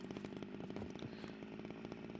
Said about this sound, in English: How is the chainsaw doing on fuel?